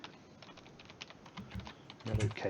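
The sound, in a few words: typing on a computer keyboard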